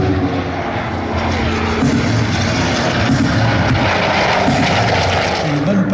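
A propeller-driven Douglas Skyraider, a Vietnam War-era attack plane, flies at the Air Legend 2022 air show with a loud, continuous engine drone and rumble that holds steady and close, with a voice faintly mixed in.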